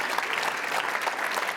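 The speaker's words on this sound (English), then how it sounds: "Once again, a big round of applause, everyone, for Jean-Pierre, Nicole, and Yves." Dense, continuous audience applause after a local panel discussion on European security in Maastricht, loud and even throughout the short stretch, with no talk over it.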